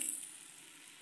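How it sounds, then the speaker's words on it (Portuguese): White rice tipped into a pan of sautéed garlic, giving a steady, close frying sizzle that holds on its own without any voices. "Aqui o nosso alho já está refogado já. Vamos colocar nosso arrozinho branco."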